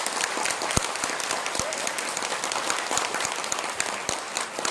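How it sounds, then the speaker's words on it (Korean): A lecture audience claps steadily, a thick, even patter of many hands close by, with a few sharper individual claps standing out, and no speech. "김성훈 박사님께 뜨거운 감사의 박수를 부탁드리도록 하겠습니다"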